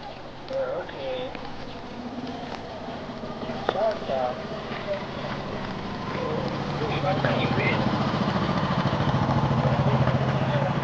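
A motorcycle engine hums nearby and grows louder toward the end, with a person talking over it.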